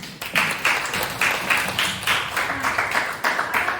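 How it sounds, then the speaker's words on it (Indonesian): Students in a classroom lesson clap together in a steady rhythmic pattern, about two or three sharp bursts per second, fairly close and loud with no talking over it. "Tepuk tangan untuk Viera"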